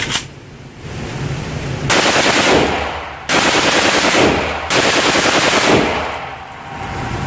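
Loud, rapid strings of gunfire at a three gun shooting competition, arriving in several sustained bursts separated by brief pauses, close and dominant with no talking.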